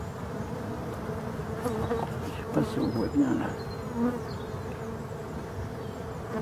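A steady buzz of many honey bees on top of a hive, close and continuous, with a person speaking briefly over it.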